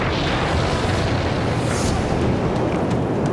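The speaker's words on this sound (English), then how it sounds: "An earth-shattering explosion in a rocket fuel factory rocks this small desert town." A huge explosion at a rocket fuel factory in a small desert town roars as a loud, continuous, dense rumble that fills the whole clip without letup.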